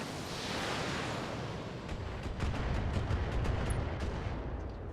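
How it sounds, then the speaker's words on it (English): LRM missile volley from BattleTech mechs pounding several turrets in a video game: dense, continuous roar of rocket fire and overlapping explosions, loud and sustained, with sharper impact bursts toward the end. "we basically throw 1 round of LRMs at each of these turrets"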